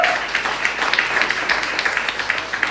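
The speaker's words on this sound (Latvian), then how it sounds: "Aplausi viņiem!" Applause from an audience at a music and art school graduation ceremony in Roja, a steady wash of many hands clapping that carries evenly through the whole stretch.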